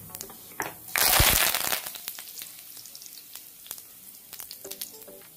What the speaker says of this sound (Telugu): జీలకర్ర వేసుకున్న తర్వాత మనం కరివేపాకు వేసుకుందాం.